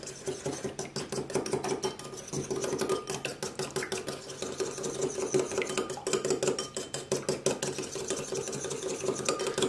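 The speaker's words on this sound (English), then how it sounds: "now let's just whisk that together" Milk being whisked in a bowl, a fast, steady, rhythmic clatter of the whisk against the sides that keeps up close and fairly loud for the whole stretch.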